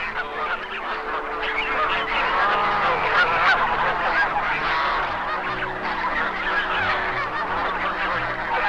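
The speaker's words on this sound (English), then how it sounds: "Swan Lake attracts the largest flocks of geese in North America." A large flock of geese at Swan Lake honks continuously, a dense overlapping chorus of calls filling the air at a steady, loud level.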